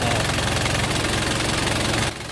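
A Nissan Frontier engine idles after running for several minutes with the radiator cap off: a steady, loud, close mechanical drone with a rhythmic knock that runs unbroken, then drops in level for the last moment.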